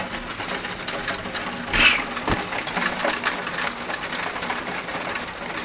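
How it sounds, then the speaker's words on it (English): Steady hissing rainfall fills the scene, a dense patter with a brief louder splash or rustle near the middle. "That's rain."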